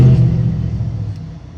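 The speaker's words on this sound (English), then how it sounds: "There's a truck." A truck passes by outside in a residential neighborhood: a deep, loud rumble that starts strong and steadily fades away over under two seconds.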